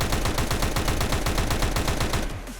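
Rapid pistol fire in CS:GO, a fast steady stream of loud close shots that runs without a break and then stops abruptly near the end.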